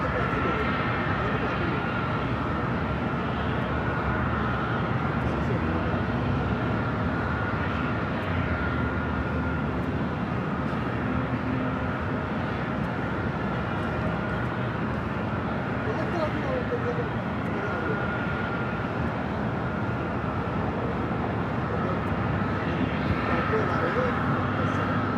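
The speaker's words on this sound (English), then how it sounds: "Swiss Flight 41 heading back to Zurich on that 777-300ER, taking off on the south side at runway 25 right" A Swiss Boeing 777-300ER rolls for takeoff from runway 25 right at LAX, its jet engines roaring in a broad, sustained rumble that stays loud and steady throughout, with a voice talking over it.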